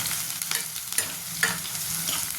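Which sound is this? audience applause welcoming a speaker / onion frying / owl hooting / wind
onion frying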